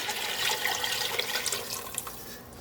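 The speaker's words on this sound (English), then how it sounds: "Now that our onions are softened, we're going to add in our broth." Warm broth pours into a pot of softened onions as a steady, rushing splash of liquid that stays close and fairly loud for a couple of seconds, with no talking over it.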